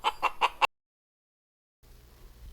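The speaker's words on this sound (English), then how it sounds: "A chicken makes this sound." A chicken gives four quick, loud clucks in a short burst, then silence and a faint hiss.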